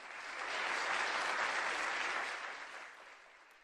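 An audience at a business angel forum opening ceremony breaks into applause, a smooth, sustained wash of many hands clapping that swells quickly, holds steady, then slowly fades, heard faintly at a distance.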